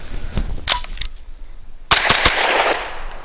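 Shots from a Grand Power Stribog SP9 A3 firing Remington UMC leadless 100 grain ammunition: several loud, sharp close reports, a few spaced cracks early, then a burst of rapid shots with ringing decay.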